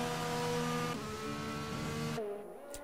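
A McLaren Formula 1 car slows into the pit lane, its engine note a fairly faint, sustained tonal whine that drops in pitch near the end, with no talk over it.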